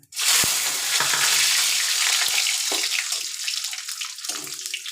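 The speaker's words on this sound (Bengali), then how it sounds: "জিরে লঙ্কা তেজপাতা একটু ভাজা ভাজা হলে একটু এই কাজু কিশমিশটা দিয়ে দেবো" Whole cumin, dried chili, bay leaf, cashews and raisins frying in hot oil for a chitol fish curry, giving a steady, close, bright sizzle that starts abruptly and continues throughout with a few small pops and clinks, no voices.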